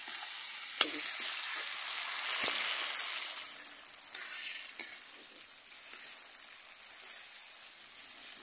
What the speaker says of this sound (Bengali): মাছগুলো মশলার ভিতরে দিয়ে একটু ভেজে নেবো